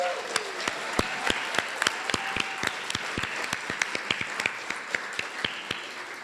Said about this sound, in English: Can we get a round of applause for our wonderful house band?